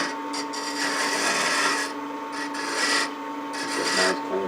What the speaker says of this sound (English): Beating and parting tool actually do that final cleanup,